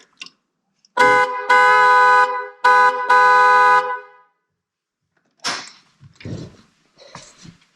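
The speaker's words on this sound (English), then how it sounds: "Hold my horns here and honk my horn." Moto Horns dual-track horn on a Harley-Davidson Triglide honks loudly in four blasts, two short pairs close together, followed by faint handling noises and quiet rustling.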